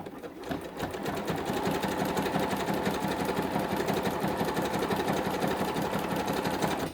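Sewing machine stitching a zigzag around the corner of a quilted journal cover, a steady fast mechanical whirring hum that runs continuously at an even loudness.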